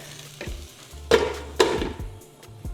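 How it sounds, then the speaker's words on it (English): Food sautéing in the same pan used for the meat for a gumbo, with bursts of sizzle and stirring scrapes rising and falling in a few distinct surges, close and fairly loud, without speech. "Saute that for a second."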